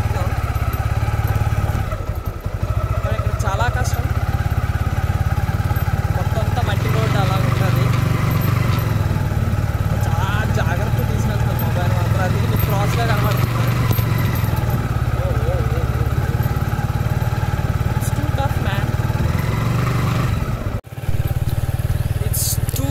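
A motorcycle is ridden with its engine droning loudly and steadily close by, the wind roaring throughout, while someone talks over it.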